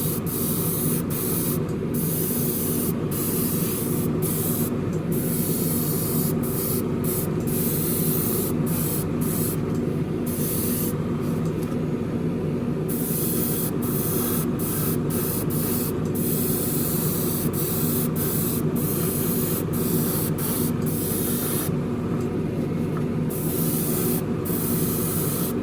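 Aerosol spray paint hissing onto a plastic Revell 1971 Boss 351 Mustang model kit body in grabber blue, a long steady close hiss with brief breaks between passes, no talking.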